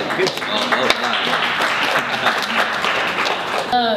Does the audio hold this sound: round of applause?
yes